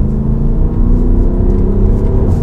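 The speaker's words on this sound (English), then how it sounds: "If I put it into dynamic, I get a bit of extra woofle from the exhaust." A deep, steady Audi SQ7 diesel engine rumble with a low throbbing exhaust note in dynamic mode, loud and continuous without any voices.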